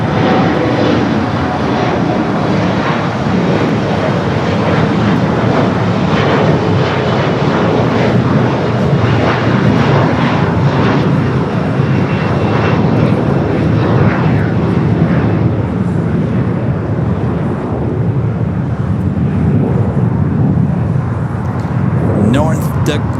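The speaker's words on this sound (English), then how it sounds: "Lufthansa heading to the south side" A Lufthansa jet airliner moves along the south side of Los Angeles International Airport, a loud, continuous broadband engine roar that stays strong throughout, with a person talking over it.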